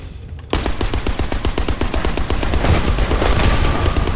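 Rapid automatic gunfire from a weapon in the shooter game The First Descendant starts abruptly and hammers on loudly and steadily, with a dense stream of shots and no voices.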